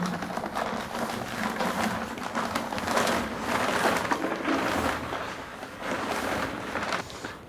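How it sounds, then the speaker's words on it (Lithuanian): A continuous gritty rushing hiss of dry plaster mortar mix pouring from a 25 kg bag into water, with crunchy rustling and slight swells in loudness throughout. "Pilam visą maišą."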